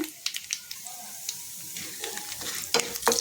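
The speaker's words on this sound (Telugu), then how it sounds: "వీటిని వేయించుకోవాలి" Urad dal frying in a pan while chutney is being prepared, a steady close sizzle broken by scraping stir strokes that grow busier toward the end.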